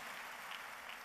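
Brief, faint burst of audience applause at a gathering, a soft steady patter of clapping with no voices.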